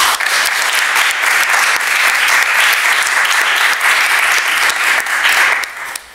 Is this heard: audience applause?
yes